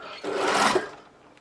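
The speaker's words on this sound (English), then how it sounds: "we're just going to sew the whole way down." A sewing machine stitching a seam down stretchy crinkle fabric, one close, brief whirring run that starts abruptly and fades out after about a second.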